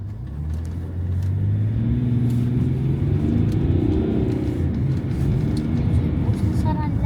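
A car drives past on a snowy, icy rural road, a steady low engine rumble that swells and holds close by for several seconds while people talk over it.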